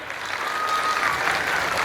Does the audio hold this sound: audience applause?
yes